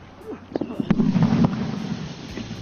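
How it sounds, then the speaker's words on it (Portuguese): A grenade thrown into a pit detonates during Chinese special forces military training, giving a muffled thump and rumbling burst with scattered pops, heard once at moderate distance. "esperando a explosão."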